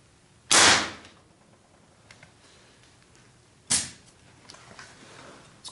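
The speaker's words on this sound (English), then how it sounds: "Gonna try once again to shoot for the copper heat sink there" Two sharp air rifle shots from a multi-shot QEV air rifle aimed at a copper heat sink, each a loud close crack with quick decay, spaced about three seconds apart.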